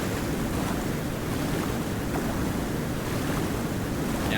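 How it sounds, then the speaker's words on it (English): Rushing water from a waterfall in the video game Cultic, a steady, dense roar of churning water and spray that stays constant and moderately loud throughout with no talk. "Looks like a waterfall to me."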